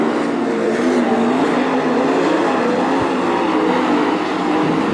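Dirt track sprint cars racing at Attica Raceway Park in Ohio during a heat race, engines roaring continuously and loud with a steady, dense drone and no talk.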